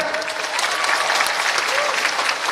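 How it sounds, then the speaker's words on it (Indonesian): An audience at a university question-and-answer event with a presidential candidate claps steadily and densely, a loud sustained applause with crowd murmur beneath it. "Sekali lagi kita berikan aplaus buat Mas Ganjar."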